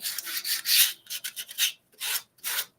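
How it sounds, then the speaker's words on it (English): Sandpaper of 150 grit rubbed over wood on a lightly distressed wooden Christmas tree, a run of close, bright scratchy strokes in quick bursts with short pauses between, no voices. "put a little bit of sanding. And this is 150 sandpaper."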